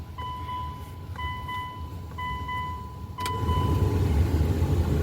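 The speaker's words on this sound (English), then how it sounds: "Blower motor works." Blower motor of a 2003 Mitsubishi Galant with the key switched on. A repeating electronic chime beeps three times, then a close, steady fan whoosh starts and keeps running.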